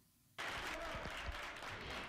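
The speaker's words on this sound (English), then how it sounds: "His remarks were applauded by triumphant officials and political leaders who gathered at the presidential palace in Santiago" Officials and political leaders applaud at the presidential palace in Santiago, a sustained wash of clapping that starts abruptly and holds steady at a moderate level.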